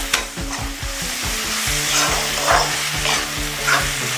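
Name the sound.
sautéing onion, ginger and garlic while stirring in pan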